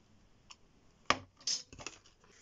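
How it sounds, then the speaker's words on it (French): A paper punch perforates scrapbooking paper with a sharp snapping crunch, followed by a few quieter clicks and rustles of paper being handled, close and without talk. "vous venez perforer votre papier."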